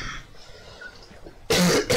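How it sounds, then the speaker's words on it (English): A person coughs twice near the microphone, two loud, harsh bursts close together after a stretch of quiet background. "I know I just coughed while after saying that"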